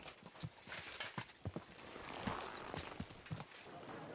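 Steady clip-clop of horse hooves at a walking pace in the video game Kingdom Come: Deliverance II, close and fairly soft, over a constant background hiss.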